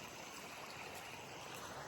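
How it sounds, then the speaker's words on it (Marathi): Water from a pond spillway rushes in a steady, unbroken wash with a broad hiss. It sounds faint and distant, with no voices over it. "लय पाणी खाळ खाळ खाळ खाळ खाळ खाळ खाळ वाहतो नुसतं जबरदस्त"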